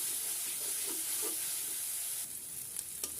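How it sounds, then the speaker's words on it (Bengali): Onion and cumin paste frying in a pan for a fish curry, a quiet steady sizzle with soft stirring scrapes, and a slight change in texture near the end; no talking. "এটাকেও কিছুক্ষণ ভেজে নিব, যাতে পেঁয়াজ আর জিরার পেস্টের কাঁচা গন্ধটা চলে যায়"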